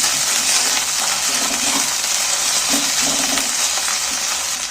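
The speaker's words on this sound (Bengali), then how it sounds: "আদা রসুন বাটাটা দিয়ে দিচ্ছি মধ্যে। এইটাকে একটু তেলের মধ্যে পেঁয়াজের সাথে নিয়ে নিচ্ছি" Chopped onions and ginger-garlic paste fry in hot oil in a pan, giving a loud, steady, close sizzle that hisses without a break, with faint stirring scrapes underneath and no voices.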